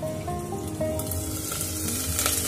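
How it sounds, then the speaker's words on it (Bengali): Potatoes and spring onions frying together in a pan produce a continuous, even sizzle with soft crackles, close and moderately loud throughout. "আলু আর পেঁয়াজ কলিগুলো একসাথে ভালোভাবে ভেজে নেব যাতে সবজিগুলো ভালোভাবে সেদ্ধ হয়ে যায়।"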